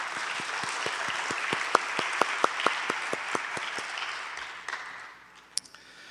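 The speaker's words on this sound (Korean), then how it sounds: "우리의 찬양의 이유 되신 하나님께 영광의 박수 드리겠습니다." A church congregation at worship applauds together, a brisk burst of rhythmic clapping with distinct single claps standing out, fading away toward the end.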